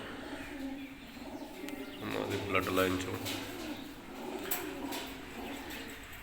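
Soft pigeon coos murmur in the background beneath a voice, with a few faint chirps nearby.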